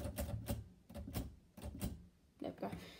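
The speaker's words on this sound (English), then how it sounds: "So this is actually a working typewriter." Keys of a working manual typewriter strike in uneven bursts of sharp clacks and thumps, close and fairly loud, with a carriage-like clatter near the end and no speech.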